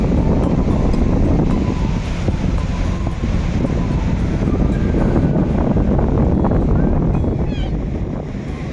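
Steady wind roars across the open sea front at Golden Beach in Puri, with surf washing in continuously beneath it; the broadband noise stays loud and unbroken throughout.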